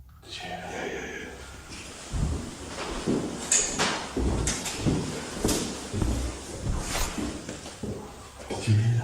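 A door in a dark, allegedly haunted building closes somewhere nearby with a series of dull knocks and thuds, moderately loud amid rustling and shuffling, with no talk.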